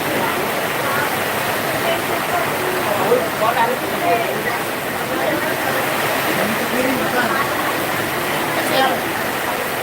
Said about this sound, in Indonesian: Dan akhirnya hujan sangat deras sekali di belakangku.